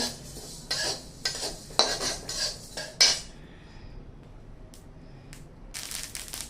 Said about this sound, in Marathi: तीळ भाजायला लागले की असे उडतात तडातड उडतात